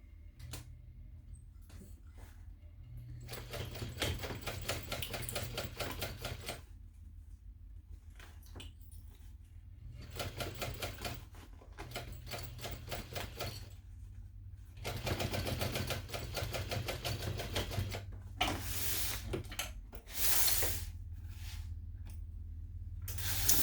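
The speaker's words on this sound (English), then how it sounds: "I'm going to sew it closed at 1/8 of an inch" A sewing machine stitches a messenger bag closed an eighth of an inch from the edge, running in several rapid bursts of steady mechanical chatter separated by pauses and a few clicks, with no talk.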